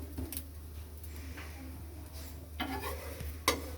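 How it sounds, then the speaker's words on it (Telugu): Cheese bread omelette toasting in a pan, a soft steady sizzle under clinks and scrapes of a utensil against the pan, with a few sharper taps. "దీన్ని బ్రెడ్ మీద ఇలా పెట్టుకొని ఇంకో బ్రెడ్ దీని మీద ఇలా పెట్టేసి రెండు కలిపి 2 సైడ్స్ కాల్చుకోవాలి"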